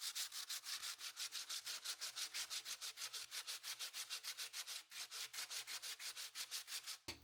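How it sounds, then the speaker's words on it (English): Epoxy-coated wood for shelves sanded by hand in quick, even back-and-forth strokes, a close, rhythmic rasping with a brief pause partway through and a sharp knock at the end, no voices. "we'll go ahead and sand it a little bit"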